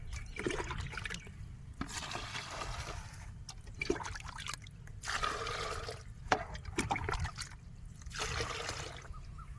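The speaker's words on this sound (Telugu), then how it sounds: "ఆ ట్యాంకులకు పోసి" Liquid pesticide pours and trickles into a sprayer tank in a field, a steady watery gush in several surges with short pauses between, fairly close, with no talking.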